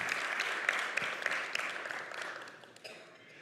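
Audience applause at a synagogue annual meeting, a brief burst of clapping from a crowd that is fairly faint and distant, gradually fading out.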